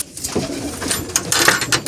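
Several pigeons coo and rustle close by in a loft, soft throaty calls overlapping with fluttering and shuffling.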